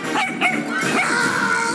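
A dog yips and barks repeatedly in a French film trailer, its excited barks blended into a dense, loud mix of music and effects that runs without a break.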